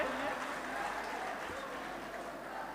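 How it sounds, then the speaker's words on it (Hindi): Audience applause for a student's poem recital at an inter-college event in Ghazipur: steady, fairly distant clapping from a crowd, continuous and even throughout. "बेहतरीन अंदाज में जोरदार ताली बजाइए इस बच्चे के लिए"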